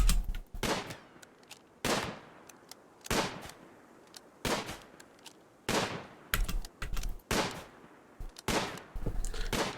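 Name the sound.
gunfire during shooting training in the video game RimWorld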